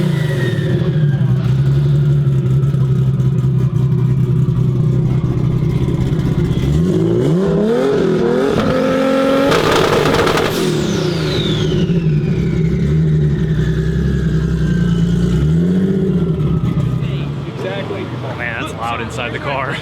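Toyota Supra race car engine running on an open downpipe with no exhaust, droning loudly then revving up and down in several rising and falling sweeps, very loud and close throughout.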